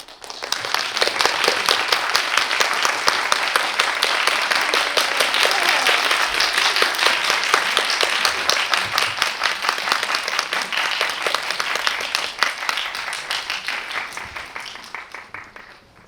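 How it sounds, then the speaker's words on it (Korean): Sustained audience applause fills a Korean film screening's post-show Q&A as the director and lead actress walk in, dense steady clapping that builds quickly, holds loud for most of its length and tapers toward the end. "입장하실 때 용기를 드릴 겸 큰 박수 부탁드리겠습니다"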